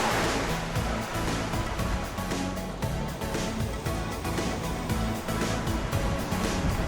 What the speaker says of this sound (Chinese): 听海浪的声音